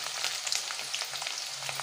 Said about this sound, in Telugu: కొద్దిగా ఫ్రై అవుతున్నాయండి